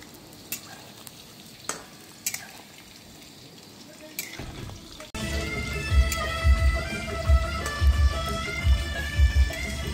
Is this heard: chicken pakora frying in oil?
yes